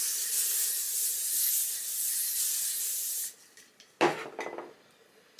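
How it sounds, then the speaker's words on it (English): Styling spray hisses onto hair in one long, close, steady burst for about three seconds, followed by light clicks and handling noises. "I'm just going to put a little bit of this styling spray on."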